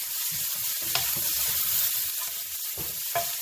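Bitter melon and Chinese eggplant with bacon sizzle and crackle in oil, a steady hissing fry broken by a few stirring scrapes and sharper pops, close and fairly quiet, without talk.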